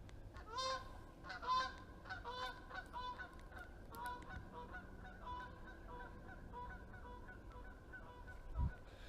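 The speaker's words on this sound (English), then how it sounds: "Had to stop my video because those geese were so loud." Loud geese honking in a chorus of overlapping repeated calls near an outdoor dirt BMX trail site, with the honks thinning out toward the end.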